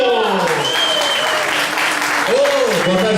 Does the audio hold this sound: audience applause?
yes